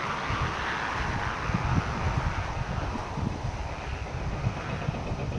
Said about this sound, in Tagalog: Napakaingay kasi napakalakas ang hangin